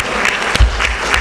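An audience at a conference tribute claps in a brief, steady burst of applause that fills the room.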